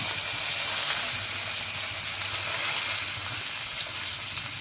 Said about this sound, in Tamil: இந்த நேரத்தில் கருவேப்பிலை ஆட் பண்ணிக்கோங்க